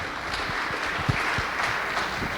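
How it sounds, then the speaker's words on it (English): An audience applauds a hospital representative at a talk on expat health care, a short spell of brisk clapping with a few sharp distinct claps standing out. "Big round of applause."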